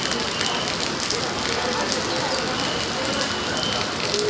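Steady rain pours down outdoors in a continuous, dense patter, loud and close throughout with no break.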